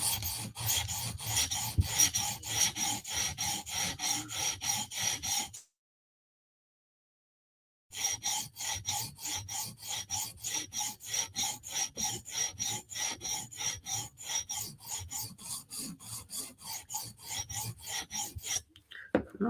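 Light, even knife-sharpening strokes on Vero Synapse and Berg blades rasp in a fast regular rhythm, close and clear, pausing for a couple of seconds midway before the steady back-and-forth resumes.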